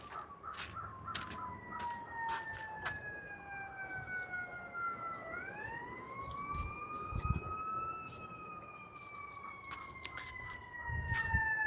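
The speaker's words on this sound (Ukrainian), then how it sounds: "Десь там швидка лящить." A fire engine siren wails steadily in the distance, its pitch sliding up and down, while crows caw intermittently closer by.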